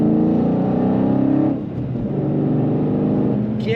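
A 2020 Dodge Challenger R/T Scat Pack Widebody with a 6-speed manual cruises at about 59 mph, its engine a steady, loud, close drone that dips briefly midway, then settles back into an even rumble.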